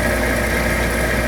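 A wood lathe spinning at 1500 RPM during sanding with Yorkshire Grit gives a steady, loud, dense mechanical drone and hum throughout, with no breaks.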